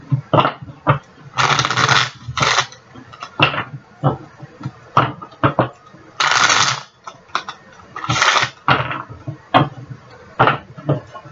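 A deck of Spanish Tarot cards is shuffled by hand in repeated bursts of riffling and sliding, close and crisp, with brief gaps and light handling noises between the bursts.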